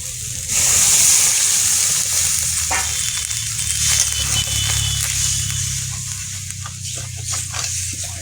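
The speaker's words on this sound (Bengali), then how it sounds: "এবারে জল দিয়ে দেবো।" Water goes into a pan of frying amudi fish curry, and the hot oil bursts into a loud sizzling hiss that then settles into a steady bubbling simmer up close.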